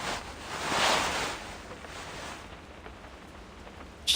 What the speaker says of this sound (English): The continuous sound of rain brings her into a dream.